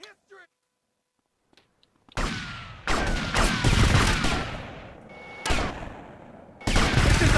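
Bursts of M4 assault rifle fire in GTA Vice City Definitive Edition on PC, loud sustained volleys with short pauses between them, following a near-silent opening with faint game sounds.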